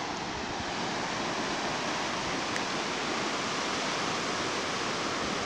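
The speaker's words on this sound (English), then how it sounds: "The water comes rushing in and shoots straight up into the sky." Ocean waves rush in at a surfing beach in New Zealand, a loud, continuous roar of surf and churning water that stays broad and steady the whole time, with no voices.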